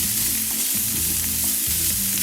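Shallots sizzle steadily in hot olive oil in a pan with salt and pepper, a continuous close frying crackle with faint scraping of stirring, no voices.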